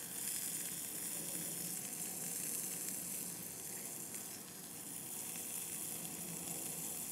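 A burger patty sizzles in a smoking hot pan, a continuous bright frying hiss that stays even and close for several seconds with no voices over it.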